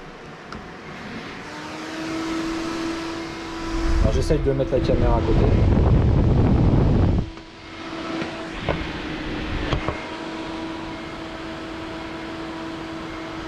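A 95 CFM high-airflow computer cooling fan on a mining rig whirs with a steady hum and faint tonal whine, rising to a louder rushing roar for a few seconds before dropping back, with a person talking over it.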